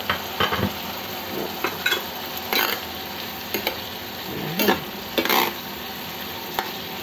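Tomato with dried sweet basil leaves sizzling and frying in a pan, with repeated scraping and stirring strokes and light clinks of a utensil against the pan, close and steady.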